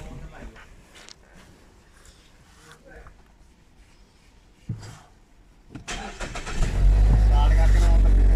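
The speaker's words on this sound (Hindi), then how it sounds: "गाड़ी आप देख सकते हैं मैंने स्टार्ट कर दी है।" A Mazda6 car engine cranks and catches near the end of the clip, then settles into a loud steady idle close by, with a person talking beforehand.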